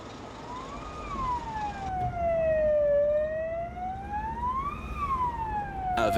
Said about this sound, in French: Avec un motard en tête de file, les pompiers civils foncent dans les rues de Daloa.